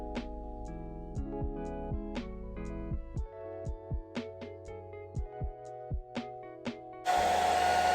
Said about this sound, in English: Get a blow dryer, and it's going to be on cool, on medium.